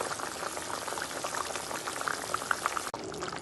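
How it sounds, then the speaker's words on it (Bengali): Rui fish curry gravy with fried fish pieces and slit green chillies bubbling in a pot, a steady soft boiling burble with small pops, close and continuous, with no voices over it. "ঝোলটা ফুটতে শুরু করেছে।"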